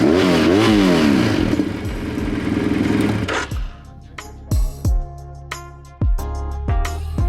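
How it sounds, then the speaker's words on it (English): A dirt bike engine idles with a rough, rising drone, then the throttle is blipped repeatedly, producing several sharp, loud revs that spike and drop back to a steady idle. "You pull the throttle, you'll hear the gas."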